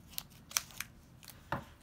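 Scissors snip through a K-pop photo card package: four or five quick, crisp cuts spaced irregularly, close and fairly quiet, with no talking.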